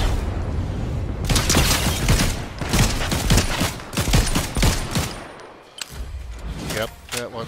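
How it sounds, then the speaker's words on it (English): Rapid bursts of gunfire from the video game Fortnite during a duo match, loud and dense volleys with impacts, spread across the stretch with voices talking over the shooting. "They're shooting in front."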